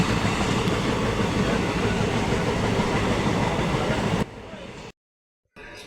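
Passenger train rolling along the rails on the Upper Assam line toward Murkongselek, a loud steady rumble and clatter for about four seconds before it drops away to near silence, then returns faintly.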